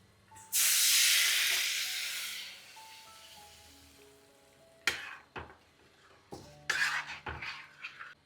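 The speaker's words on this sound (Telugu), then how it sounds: "తాలింపు చేసుకొని కొంచెం వాటర్ వేద్దాం." Water splashed into a hot tempering of green chillies and chilli powder for tomato dal erupts in a loud hiss that fades over a couple of seconds, followed by sharp utensil clatters and scrapes against the pot.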